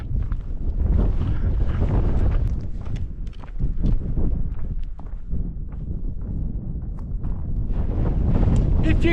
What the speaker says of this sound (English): it is really windy. I mean, really windy.